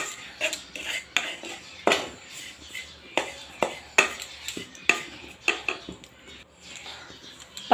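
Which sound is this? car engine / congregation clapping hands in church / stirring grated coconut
stirring grated coconut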